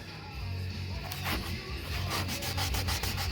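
Paint stripper being rubbed and scraped off a surface with a sandless stripper, giving a steady close abrasive rasp that turns into rapid rhythmic strokes in the second half, with no talking.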